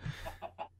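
Chickens in a Minecraft chicken grinder give a short series of clucks, about four quick evenly spaced calls, soft and close over a low hum.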